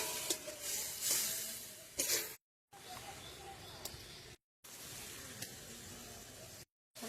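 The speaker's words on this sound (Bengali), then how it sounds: "এবার একটু জল দিয়ে দেবো। জল দিয়ে মশলাটা কষিয়ে নেবো" Water poured into a pan of spice masala cooking down, making a steady watery hiss and bubbling sizzle that is cut off by brief dead silences.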